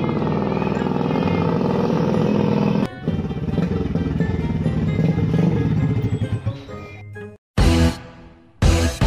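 A motorcycle engine runs loudly and steadily up close, then cuts off abruptly near the end before brief bursts of revving return.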